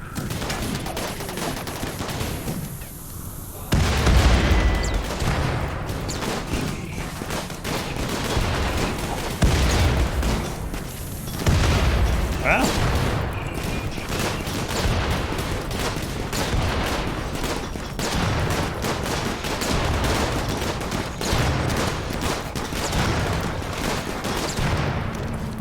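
Video game battle with gunfire and a grenade explosion, rapid volleys of shots and heavy booms crackling continuously, with several louder blasts standing out over the dense firefight.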